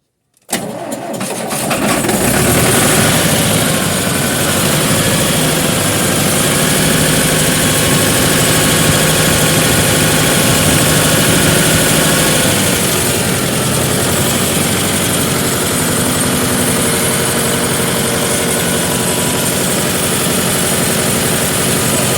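A car engine cranks and catches after a brief moment of silence, then settles into a loud, steady idle that runs unbroken for about twenty seconds, close to the microphone.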